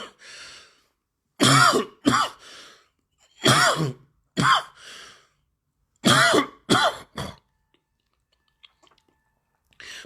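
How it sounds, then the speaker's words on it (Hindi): A person with a sore throat coughs and clears their throat in several harsh bursts, close up, with short pauses between them and silence at the end. "माफ करना भाई, मेरे को खांसी उठ गई थी, गला खराब है थोड़ा सा"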